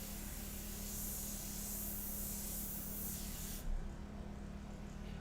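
A custom airbrush sprays paint onto a portrait artwork, producing a soft, even hiss that runs steadily for several seconds before stopping, leaving only quiet room noise.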